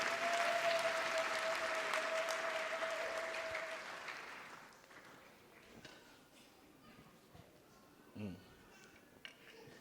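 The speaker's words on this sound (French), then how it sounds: "Applaudissons très bien pour le Seigneur" A church congregation claps for the Lord, dense applause that fades after a few seconds into quieter room noise with scattered knocks and faint voices.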